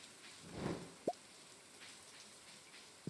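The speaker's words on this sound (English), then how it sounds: "It's been raining so much lately." Rain falls on a fall day in the farming video game Stardew Valley, a faint, steady patter with a couple of brief, sharp drip-like ticks.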